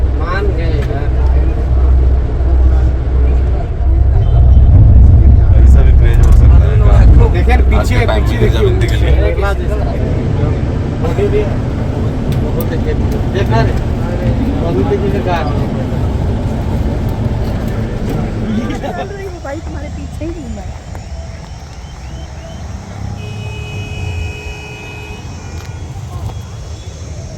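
Road jam traffic in Chhatarpur, Delhi: a steady low rumble of idling and creeping cars, loud and close, with engine drone throughout and a voice speaking over it.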